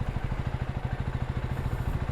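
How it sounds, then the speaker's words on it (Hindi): A KTM Duke 390-derived 400 cc high-revving single-cylinder motorcycle engine idles close by, a steady low, rapid thumping pulse with a faint clattery edge running the whole time. "इसका जो इंजन है that comes from Duke 390, so it's basically a high raving engine, throttle happy"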